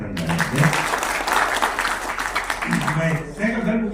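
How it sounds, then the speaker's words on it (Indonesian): An audience at a seminar claps in steady, dense applause that fills the room, while a voice talks over it. "tepuk tangan untuk Randa ya."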